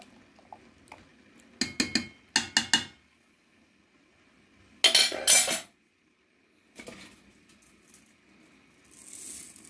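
Rice being stirred in a pot: a few short bursts of scraping and clattering from a spoon against the metal, with quiet gaps between the strokes, close by.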